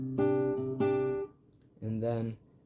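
Guitar chord plucked four times in two pairs, each pair of ringing notes followed by a short pause, close and fairly quiet with a faint sound in the gap.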